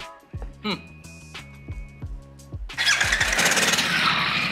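A Harley-Davidson Nightster Special motorcycle cranks with a few rhythmic starter pulses, then its engine catches and roars loudly up close.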